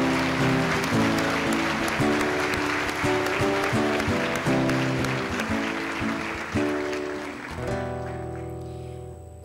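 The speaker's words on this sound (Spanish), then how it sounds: "Un gran aplauso para los estudiantes de cuarto año medio B." Steady applause from a crowd at a school graduation ceremony, with sustained music playing underneath, holding level for several seconds before tapering off near the end.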